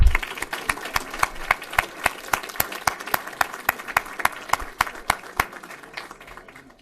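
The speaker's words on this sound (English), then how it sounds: "let's maybe a round of applause for those family members as well, too" A small group at a village board meeting claps for family members, with a handful of distinct, evenly paced hand claps standing out over softer clapping that gradually tapers off.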